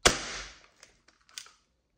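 A Tokyo Marui SPAS-12 airsoft shotgun fires with one sharp, close crack that decays quickly, followed by a few light mechanical clicks and rattles from handling the gun.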